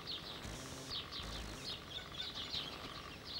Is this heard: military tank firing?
no